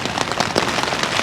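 Steady rain pattering on a tent during a windy, stormy wild camp, a dense hiss of drops with scattered louder taps, close and continuous without any voices.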